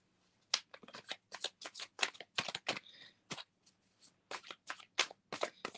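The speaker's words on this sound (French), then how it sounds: "je vais tirer quand même une autre carte" Oracle cards shuffle and slide in quick, crisp riffling bursts close by, with short pauses between handfuls, before a card is drawn from the deck.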